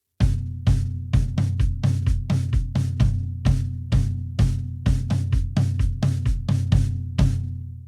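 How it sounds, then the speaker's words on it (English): Drum kit playing a steady tom pattern with kick drum, verse 2 of a worship song, close and loud with evenly spaced hits, each ringing with deep tonal resonance, no voices. "we're going to play verse 2, same pattern on the toms and the kick drum"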